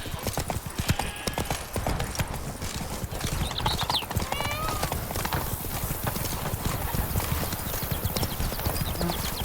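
Roach, Geralt's horse in The Witcher 3: Blood and Wine, trotting with a steady, close run of hoof clip-clops, a brief whinny rising partway through, over continuous outdoor game ambience.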